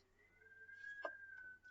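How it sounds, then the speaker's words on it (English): Strong wind outside whistles against a window in a faint, thin, steady tone that rises slightly in pitch. The room is otherwise quiet. "It's very windy outside, and it's just like whistling against my window."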